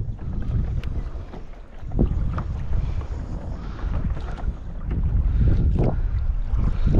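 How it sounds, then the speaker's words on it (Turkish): Steady wind buffets the microphone with a low, rumbling roar, punctuated by gusty surges and water sloshing around a small boat at sea off Karataş. "Rüzgar arkandan esiyor."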